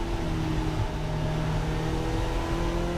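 Race car engine holding a steady drone at speed on a lap of Brands Hatch, a continuous loud hum with constant pitch and no voices.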